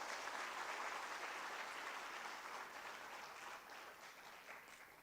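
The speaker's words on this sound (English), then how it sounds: "Please give them all a big round of applause." A convocation audience at a graduation ceremony applauds donors, a broad even wash of clapping that slowly tapers off toward the end.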